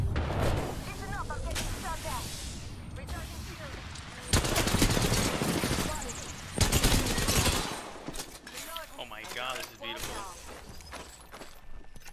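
Rapid hip-fire gunshots and bursts from a first-person shooter match, crackling in clusters under frequent player chatter, with scattered impacts and a few louder volleys.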